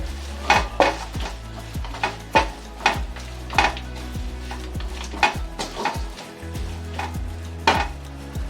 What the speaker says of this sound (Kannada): ಎಲ್ಲ ಹಾಕ್ಕೊಂಡು ಮಿಕ್ಸ್ ಮಾಡ್ಕೊಂಡ್ರೆ ಆಯಿತು